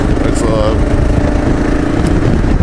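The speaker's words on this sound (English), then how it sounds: "This is a KLR 650, and it's a thumper." A KLR 650 single-cylinder thumper motorcycle engine runs steadily and loudly throughout, a continuous close mechanical drone with low pulsing, no talk.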